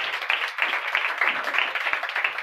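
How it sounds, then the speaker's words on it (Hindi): A church congregation claps and applauds together during a New Year service, a dense, lively patter of many hands sustained throughout with no clear voices. "जोरदार तालियां बजाएं, जोरदार तालियां बजाएं"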